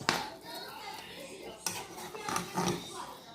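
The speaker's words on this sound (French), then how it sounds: "la mélange d'eau et de miel ici. On va continuer comme ça à mélanger" A spoon stirs a mixture of water and honey in a pot for Tunisian zrir, with scraping, clinking strokes against the metal at an irregular pace. The strokes are close and moderately loud, with faint voices in the background.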